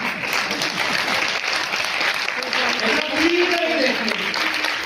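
Steady applause from an audience at an Ayurveda company's grand event at a resort in Meerut, India, many hands clapping continuously throughout, with a faint voice audible briefly underneath.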